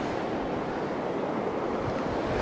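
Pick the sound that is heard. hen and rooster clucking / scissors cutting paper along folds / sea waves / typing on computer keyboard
sea waves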